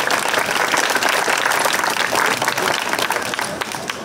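An audience at the 2021 Shelby County Fair's Bill Riley Talent Search claps in loud, dense, continuous applause that eases slightly toward the end.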